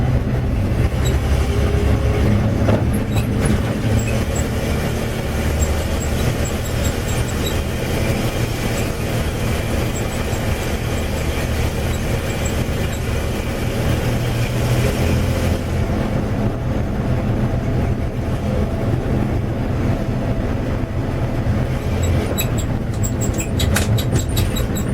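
1961 GMC 5000 truck driving across town, a steady loud low rumble with rattling and road noise that persists throughout without pause.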